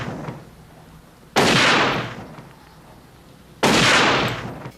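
Two loud rifle shots from the 1987 action film Nightforce, each a sharp broadband blast with a long decaying tail, spaced about three seconds apart over a low background rumble, with no talk.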